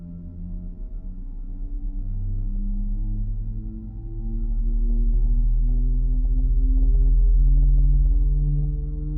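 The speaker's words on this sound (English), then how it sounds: "Start engine number 2 and see what happens in it." An airliner's number 2 engine spools up in Microsoft Flight Simulator: a low, steady rumble with rising droning tones that swells louder partway through and holds, with no talking.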